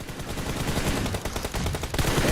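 Double-barrel DBS shotgun fire during a PUBG Mobile tournament match: a dense, rapid run of loud gunshot cracks, with heavy overlapping shots continuing for the whole stretch.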